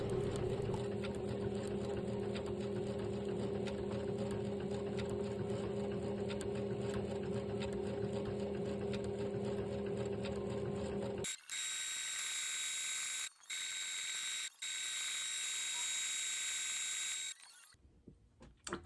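A sewing machine stitches fabric appliqué for a quilted Easter basket, its motor humming steadily and continuously for about eleven seconds before cutting off, followed by a brighter, hissier stretch with brief breaks.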